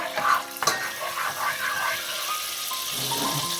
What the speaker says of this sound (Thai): สาวอ๊อกก็จะใช้เนยเค็มนะคะประมาณนี้นะคะ ค่ะเนยร้อนแล้วนะคะ